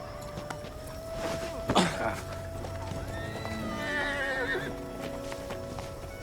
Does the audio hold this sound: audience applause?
no